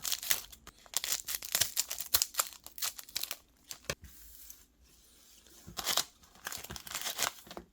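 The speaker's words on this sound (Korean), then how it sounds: "가위로 잘라서" Scissors snipping and crinkling through foil baseball card packs at close range, a run of sharp cuts and rustles with a short quieter pause in the middle.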